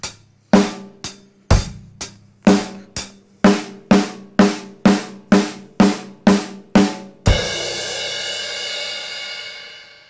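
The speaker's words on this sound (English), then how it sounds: "So let's play that drum fill" Drums on a drum kit play three bars of steady time and then a drum fill, a close and loud run of sharp, evenly spaced hits ending in a long, washing cymbal crash that rings out alone.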